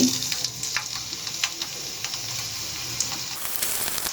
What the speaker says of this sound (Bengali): আমি পেঁয়াজটা একটু ভাজা ভাজা করে নেব